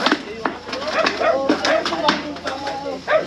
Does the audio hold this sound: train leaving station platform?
no